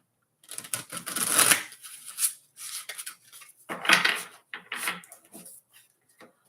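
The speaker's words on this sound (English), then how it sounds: "So let's go ahead and get a couple of shuffles and see what's up with Taurus." Tarot cards are shuffled close up in several quick riffling bursts, each a crisp papery rustle separated by short silent pauses.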